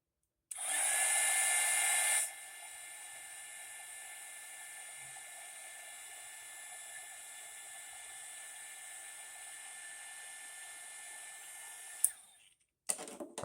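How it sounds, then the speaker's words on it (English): Heat gun or hair dryer heating adhesive during a Logitech G602 mouse teardown, starting with a loud blast, then a steady lower whir for about ten seconds before clicking off with a few small knocks. "I'm gonna heat up the adhesive before I put it on"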